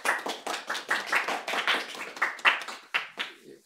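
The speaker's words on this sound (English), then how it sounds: "We have an applause." Small group clapping after a presentation about a one-week concatenative programming language, with a handful of uneven, sparse claps in short bursts, fairly close and alone without talk.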